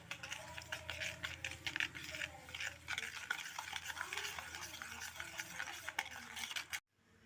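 Stirring eggless semolina (rava) lemon cake batter, a steady wet scraping and swishing that runs continuously and close, then cuts off abruptly just before the end.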